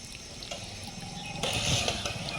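Water gushes from an open pipe jammed with a piece of wood in place of a tap, a continuous splashing rush that swells louder partway through, with no voices.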